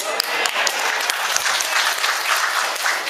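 A seminar audience of men and women claps together in a brief, loud, even burst of applause with a few sharper nearby claps, no talk over it.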